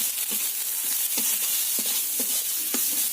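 Onion, ginger and garlic stir-fried with salt and turmeric for a fish curry, a steady close sizzle broken by repeated scraping strokes of a spatula against the pan, no voices.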